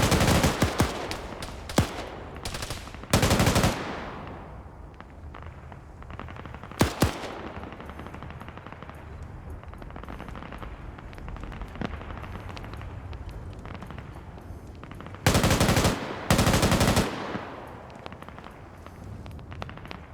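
Gunfire rattles through a military video game match set in the Falklands, with loud bursts of automatic fire up close, scattered single shots and distant crackling in between, irregular and uneven throughout.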